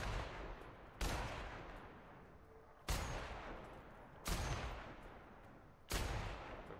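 Gunfire from a heavily recoiling gun in the video game The Outer Worlds: four loud, evenly spaced booming shots, each followed by a long decaying rumble, with no talk.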